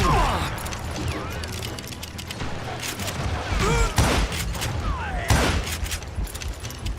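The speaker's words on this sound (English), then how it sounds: "I can shoot too!" Sustained gunfire in the Western shooter Call of Juarez: Gunslinger, with rapid cracks and heavier booms mixed into dense action noise and in-game shouting.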